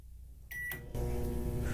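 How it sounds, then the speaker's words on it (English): An Amazon Alexa microwave oven gives a short high beep, then its fan and magnetron start up into a steady, loud droning hum. "Alexa, cook the microwave for 2 minutes."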